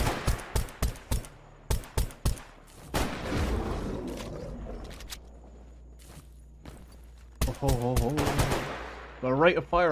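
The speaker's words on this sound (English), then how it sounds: "Rate of fire on this pistol's not great, to be honest" Pistol gunfire in the video game Stalker Anomaly Gamma: a string of sharp, fairly slow single shots early on, a heavier burst of firing and echo, then more shots near the end, with speech over some of it.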